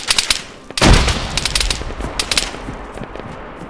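Gunfire in the military game ArmA 3: a heavy close blast opens a run of rapid automatic bursts and single shots, loud and sharp, with echoing cracks trailing off toward the end.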